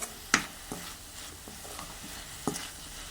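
Drumstick (moringa) greens sauté quietly in ghee in a pan, a soft steady sizzle broken by a few sharp scrapes and clinks of a stirring spoon.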